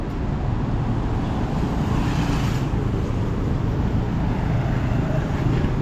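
City-centre traffic in Kuala Lumpur, mostly electric cars, a steady low broadband road hum with a gentle swell around two seconds, fairly even throughout and free of speech.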